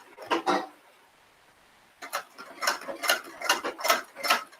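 A sewing machine stitches folded one-inch fabric strips for piping, a close run of rapid mechanical clatter in several short bursts after a brief opening burst and a pause, with no talking.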